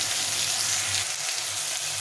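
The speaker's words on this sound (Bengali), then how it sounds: "টমেটোটা একটু ভাজা ভাজা করে নেব" A medium-sized tomato frying in a pan, giving a steady, close sizzle that runs unbroken and fairly loud throughout, with no voices.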